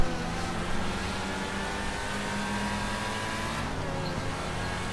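A Pegassi Torero sports car in GTA Online driving at speed during a brake test with the e-brake, a loud steady engine drone and road rumble throughout, alone with no talk.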